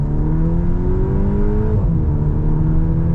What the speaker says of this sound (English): it's doing that, you know, iconic Volkswagen pop between the upshifts that has this sort of dumpy boop sound each time it upshifts